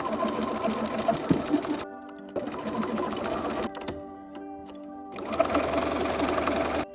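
Sewing machine stitching around the edge of a fabric piece in bursts of rapid needle chatter, pausing briefly between runs, close and steady.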